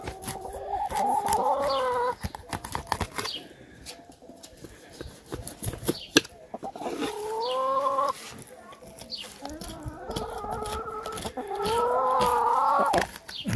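Chickens cluck in bursts over a busy background, their calls rising and falling close by with pauses between.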